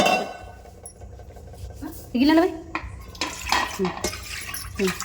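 Kitchen sounds of rice and water being poured into a metal pot, with clinks of utensils and a voice speaking Telugu intermittently nearby.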